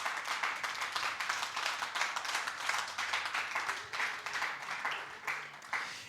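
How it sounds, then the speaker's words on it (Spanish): Congregation in a church clapping for the Lord, rapid overlapping claps from many hands forming steady, moderately distant applause that continues throughout. "den un aplauso al Señor"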